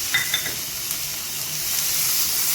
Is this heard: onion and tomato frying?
yes